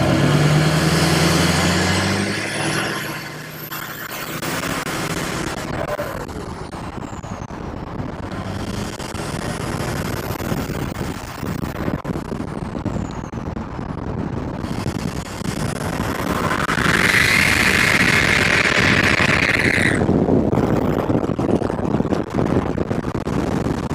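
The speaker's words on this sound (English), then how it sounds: "I'll give it a few pulls and let you hear the turbo sound." A Chevy Silverado pickup with an LML Duramax diesel engine and the muffler removed revs repeatedly, rising and falling in pitch with each pull, rough and unmuffled, close by.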